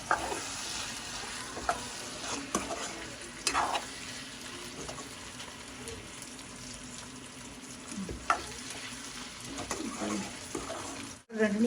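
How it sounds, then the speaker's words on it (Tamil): Onions stirred in a pan with cinnamon powder, a steady low sizzle with scraping spoon strokes recurring through the clip, ending with a few louder clatters. "இவ்வளோ பட்டைத்தூள் வந்து சேர்த்துட்டு நாங்கள் விரட்டி விடுவோம்"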